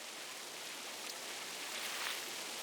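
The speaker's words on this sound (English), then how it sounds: "rain pelting down so hard you can't keep it out of your eyes" Heavy rain pelting down in a steady, dense hiss, a continuous broadband wash of water with no individual drops standing out, moderately loud and unbroken, with no voices.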